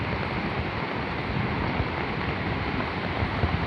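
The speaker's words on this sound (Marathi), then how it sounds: "तुम्ही बघत असाल हा महापूर, पूरच पूर आलेला आहे नदीला" A river in heavy flood at Sakwar rushes past as a dense, steady roar of water, broadband and constant, with some wind buffeting the microphone and no voices.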